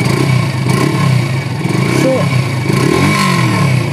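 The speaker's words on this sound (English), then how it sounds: "Look at the sound of this bike." A Yamaha FZS-Fi V3.0 motorcycle engine runs steadily up close, a loud continuous idle with slight rev changes, while someone talks over it.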